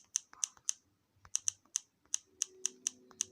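A colorful backlit computer keyboard is typed on up close, a dozen or so crisp, clicky keystrokes in short clusters with brief gaps, otherwise quiet apart from a faint hum.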